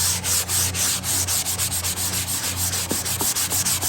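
Drywall corner edges being hand sanded, a close, loud rhythmic rubbing with regular back-and-forth strokes about three per second, alone without speech.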